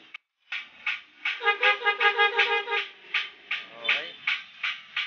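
A loud aftermarket horn fitted to a Kawasaki Ninja 250 motorcycle in a garage sounds in a rapid series of short, close, bright blasts after a brief silence.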